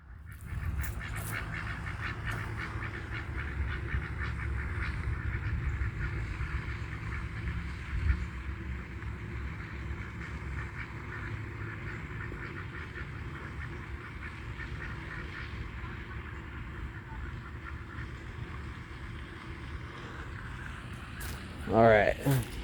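Ducks on the water quack and honk in steady, overlapping bursts close by for the whole stretch, with people talking over them and a louder cluster of calls near the end.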